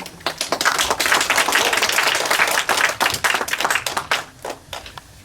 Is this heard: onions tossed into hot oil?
no